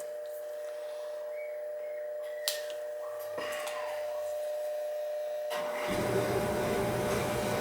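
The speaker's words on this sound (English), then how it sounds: "That noise is probably coming from the burner." An oil boiler burner runs with a thin, steady whine held under a quiet hum, with a few small knocks. A louder rushing roar joins near the end, and no one talks.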